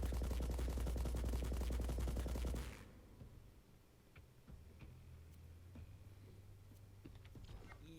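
A dubstep blaster gun firing in a Borderlands video game: a loud rapid pulsing burst for under three seconds, then abrupt stop into quieter game ambience with faint ticks.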